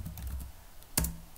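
Typing on a computer keyboard, a few quiet, close keystrokes followed by one sharper click, with no speech.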